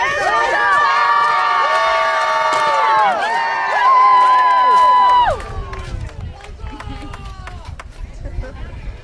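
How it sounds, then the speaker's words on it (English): Spectators at a jousting tournament cheer and shout loudly alongside blaring horn-like tones for several seconds, then the roar drops to a scattered crowd hubbub with claps and voices. "A cheer for your champions as they prepare for the third part."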